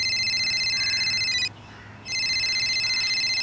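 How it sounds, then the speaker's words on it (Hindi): A telephone bell rings indoors in a Hindi crime drama episode, two loud electronic trilling bursts separated by a brief half-second pause, heard alone without talk. "अरे फोन बज रहा है तो उठा काहे नहीं रही हो?"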